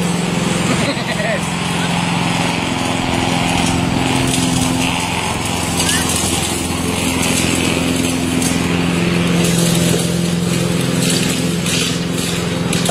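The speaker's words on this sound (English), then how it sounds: "I wish their damn mower wasn't going." A neighbour's lawn mower drones steadily in the background at a backyard look at a Saleen S281SC, a continuous low engine hum running throughout beneath outdoor ambience.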